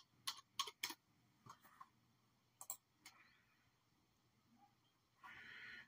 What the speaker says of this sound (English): I'm going to type in about this PC.